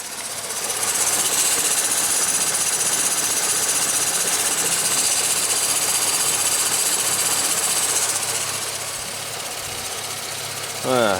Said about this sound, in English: it might be the water pump, that noise